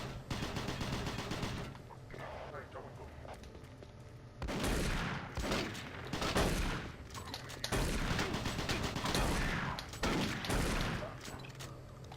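A shotgun fires repeatedly in Doom 3, loud booming blasts in bursts separated by brief quieter gaps, with mechanical clatter between shots.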